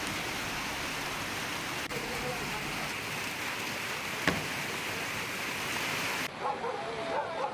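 A flash flood torrent rushes through a residential area in Tapanuli Tengah after heavy rain, a loud continuous roar of churning water with a brief sharp knock partway through.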